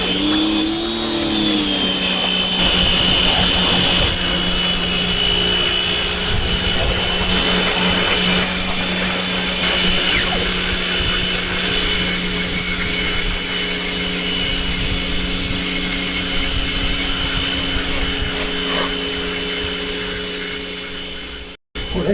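A repaired Draper pressure washer runs steadily and loudly with a constant motor whine and pump hum, close by, for about twenty seconds before cutting off abruptly at the end.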